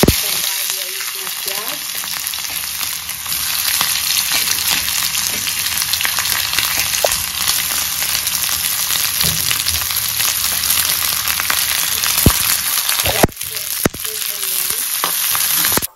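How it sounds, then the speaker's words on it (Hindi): Sliced onions sizzle steadily in a hot pan with cumin while okra masala is being cooked, a constant loud frying hiss with occasional scraping stirs and a couple of sharp clanks near the end. "प्याज मेरा अच्छे से भून चुका है"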